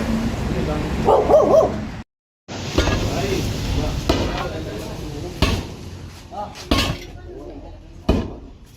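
A dog barks in a few sharp, separate bursts at moderate distance, under and between people talking in Tagalog outdoors, with other scattered knocks and noises around.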